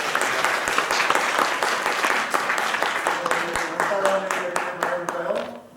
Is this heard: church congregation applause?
yes